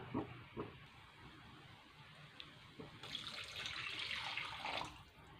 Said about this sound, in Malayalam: ഞാനിവിടെ ഈ ഗ്ലാസ്സിന് രണ്ട് ഗ്ലാസ് വെള്ളമാണ് ചേർത്ത് കൊടുക്കുന്നത്